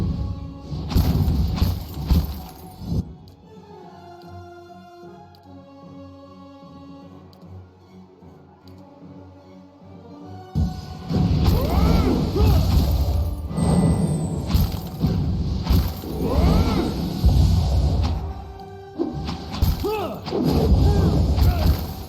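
A magic missile spell cast in the fantasy RPG Pillars of Eternity: repeated thumping magical impacts and booms over battle noise, with a quieter musical stretch in between before the loud combat effects resume.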